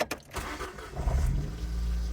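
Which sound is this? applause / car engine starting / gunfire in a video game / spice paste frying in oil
car engine starting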